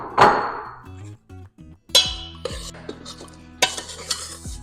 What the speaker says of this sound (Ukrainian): І все це добряче перемішаю.